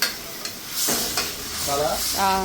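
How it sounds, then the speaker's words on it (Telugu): Thin-sliced broad bean pieces fry in hot oil, giving a steady close sizzle with sharp stirring scrapes and clinks. Faint tonal sounds rise toward the end. "కొంచెం ఆయిల్ ఫ్రై చేసేస్తున్నారు"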